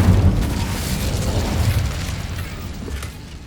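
A loud, deep booming fire-spell blast in the game Hogwarts Legacy erupts at once and rolls out into a rumbling tail that slowly fades, no speech over it.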